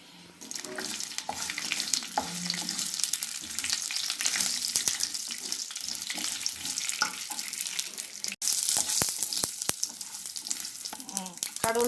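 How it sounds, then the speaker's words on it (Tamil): Mustard seeds and urad dal crackle and sizzle in hot oil as a tempering for ginger chutney, a steady close frying hiss broken by sharp pops, with no talk. "கடுகு உளுந்தம் பருப்பு பொரிஞ்சிருச்சு"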